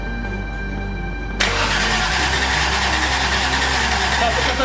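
A 1JZ engine in a 1988 Supra being cranked on its first start attempt. A steady hum gives way to a loud, continuous, rough cranking roar close by.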